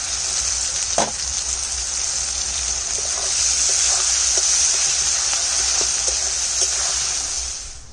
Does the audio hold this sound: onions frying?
yes